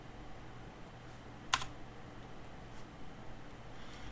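Quiet computer keyboard typing with scattered soft key taps over a low steady room hum, one sharper keystroke standing out near the middle.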